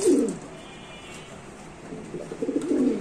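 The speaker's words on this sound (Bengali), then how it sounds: "দর্শক এখানে আছে একটা টপ কোয়ালিটির ফ্যান্টেল কবুতর," A fantail pigeon gives a short, close, throaty coo, falls quiet, then coos again.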